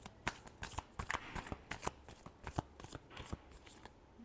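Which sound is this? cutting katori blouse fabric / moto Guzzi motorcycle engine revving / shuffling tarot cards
shuffling tarot cards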